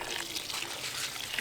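Water pours and trickles steadily into soil in potatoes growing inside a shopping bag, a soft continuous hiss that is faint and brief, with no talking.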